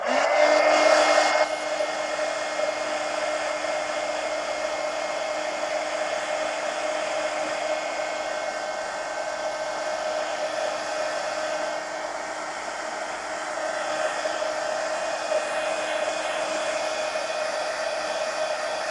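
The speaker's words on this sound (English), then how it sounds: "Let me dry this real quick" A hair dryer blows steadily and loudly for the whole stretch, drying acrylic paint on a mixed-media collage page in an art journal, with no talking.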